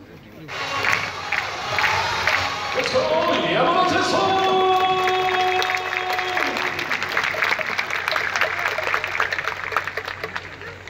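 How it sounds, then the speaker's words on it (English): Fans at a Japanese professional baseball game, a Tokyo Yakult Swallows home crowd, clap steadily and bang cheering batons together in a dense, continuous rhythmic clatter, with shouted cheers and whistle-like calls rising over the stands. "A lot of clapping, a lot of banging of cheering batons."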